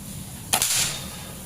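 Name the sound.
air rifle shot hitting small metal silhouette target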